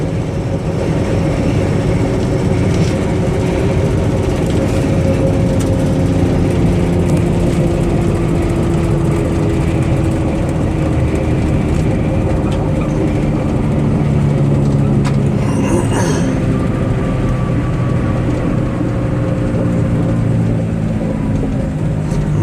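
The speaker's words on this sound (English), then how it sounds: "I'm going to give it a hard brake at the bottom of the ramp so you can hear it brake." Steady low engine and road rumble inside a 1999 Dodge Caravan wheelchair-accessible minivan coming off a highway exit ramp and braking hard at the bottom, with no distinct brake squeal standing out.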